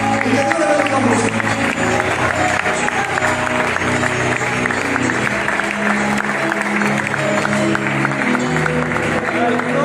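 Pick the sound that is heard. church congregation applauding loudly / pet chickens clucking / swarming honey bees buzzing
church congregation applauding loudly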